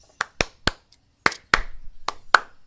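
Sharp hand claps ring out close and crisp, about seven in an irregular sequence with brief gaps between them, with no voices.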